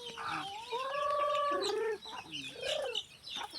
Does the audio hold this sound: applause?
no